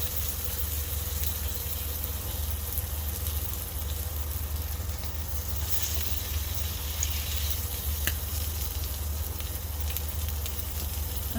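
Salmon sizzles in bacon grease in a cast iron skillet, a steady, dense, close crackling hiss that holds evenly throughout with no voices.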